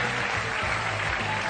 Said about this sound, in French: on applaudit Daniel